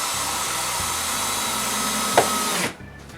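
A power tool whirs steadily at close range while driving a screw to fix a cable into a window opening at a wooden cabin, with a small knock near the end before the motor cuts off.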